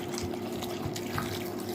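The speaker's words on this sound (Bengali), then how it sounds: "পুরো জল দিয়ে দিলাম।" Water pouring into a cooking pot for boiled whole vegetables, a steady close splashing trickle throughout.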